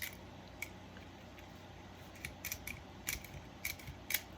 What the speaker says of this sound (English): I'm going to take my gun, my zip tie gun